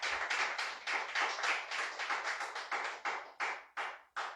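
Church congregation clapping for the Lord, a run of rhythmic, fairly even claps that spread out and slow toward the end, with no talking.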